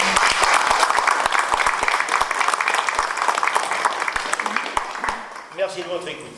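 Audience at a French association's general assembly applauding, dense steady clapping that thins out toward the end, after which a voice briefly begins speaking.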